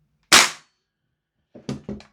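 A TAPP Airsoft GHK G5 airsoft rifle fires a 0.3 gram BB through a chronograph: one loud, sharp close shot, then after a pause three quicker, softer snaps in succession.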